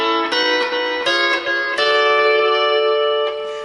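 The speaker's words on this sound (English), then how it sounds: "call bar hopping, and that sounds like this." Lap steel guitar played with a bar-hopping technique, each note muted as it is picked, giving a few short clustered attacks then a longer sustained ringing note, close and clear with no talking.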